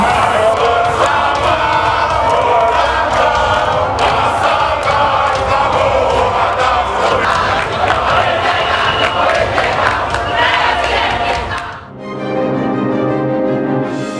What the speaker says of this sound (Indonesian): hingga sorak-sorai nyanyian dukungan masing-masing